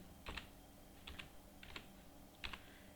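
Sparse keystrokes on a computer keyboard, about four separate soft clicks or short double taps spread out at a slow pace against quiet room noise.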